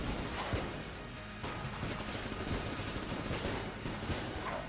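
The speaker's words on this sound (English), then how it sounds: "Actually, I'm just gonna fire it with the Vulcan cannon." Vulcan cannon firing in the video game Enter the Gungeon: a dense, continuous rapid-fire rattle of shots with crunchy impacts, steady and loud throughout with no pauses.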